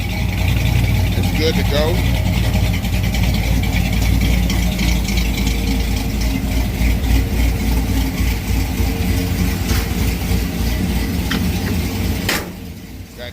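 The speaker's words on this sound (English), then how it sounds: "It's hunting for an idle." A 1968 car with a swapped 5.3 LS V8 idles unevenly, hunting for a steady idle, with a steady low engine drone throughout and someone talking over it.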